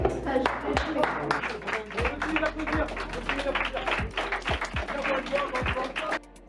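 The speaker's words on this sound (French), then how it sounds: "Oh, je vous applaudis, vous êtes trop fort." A small group of students claps for classmates in a classroom, with scattered, uneven hand claps and taps under ongoing talk, fairly close.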